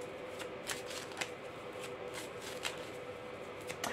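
Tarot cards are shuffled and drawn, a series of quick crisp riffles and flicks repeating across a quiet room.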